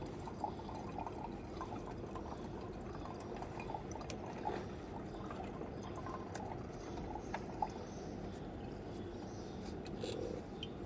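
Water drains from a Ford Powerstroke diesel fuel filter through a yellow plastic drain cap, a faint, steady trickle and drip pouring into a container for the whole stretch.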